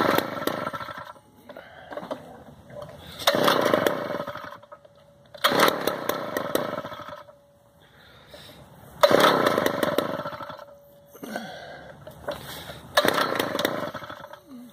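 A Cobra gas scooter's small two-stroke engine is pulled over with the choke, then catches and runs in buzzing bursts that rev up and die back several times, close and loud with no talk.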